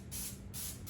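Pam cooking spray greasing a baking pan for banana nut bread: two short, close hissing bursts of aerosol spray, the second followed by the start of a third.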